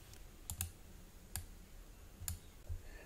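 A handful of sharp, quiet clicks from a computer mouse come in ones and quick pairs over a near-silent room.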